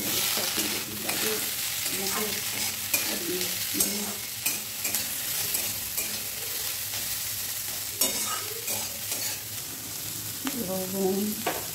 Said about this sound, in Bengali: এটাই হচ্ছে আমার দেশি ফ্রাইড রাইস। সবজিটা দিয়ে দিই।